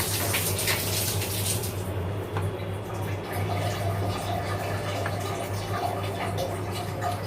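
Continuous gushing water runs from a tap as food is rinsed during home cooking of soup, a steady close splashing wash with faint low hum underneath.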